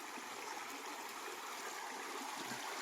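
A stream runs over rocks that were rearranged to raise the water, making a steady, even rushing and gurgling that stays soft and constant throughout, with no talking.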